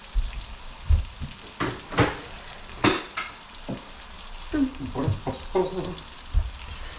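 Fat crackling and sizzling in a pan while cheesy paellotto cooks, with steady close frying hiss broken by irregular pops and stirring knocks.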